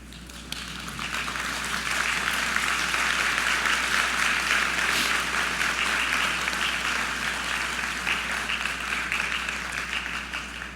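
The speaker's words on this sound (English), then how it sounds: "give a round of applause to your family and everything they have done to help you reach this incredible milestone" Sustained applause from a large convocation audience at a university spring graduation ceremony, a dense steady wash of clapping that swells early and holds evenly to the end.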